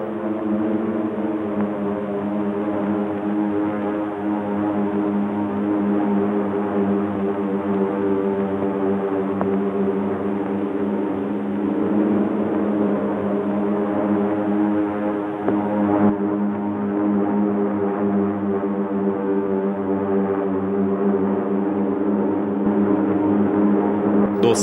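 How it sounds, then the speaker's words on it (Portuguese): Propeller engines of warplanes attacking Pearl Harbor drone continuously, a loud, steady, layered roar that holds without pause for about twenty-five seconds. "quando se ouviu os motores de aviões"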